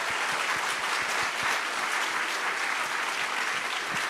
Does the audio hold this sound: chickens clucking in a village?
no